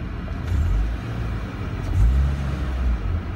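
A car engine fitted with a cardboard exhaust revs up into VTEC, a loud, heavy low rumble that swells twice over a few seconds with no talking.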